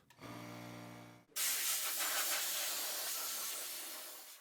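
A compressed-air blowgun blasts dust off a freshly sanded car intake manifold, a loud steady hiss that bursts on suddenly after a short humming tone and holds for several seconds.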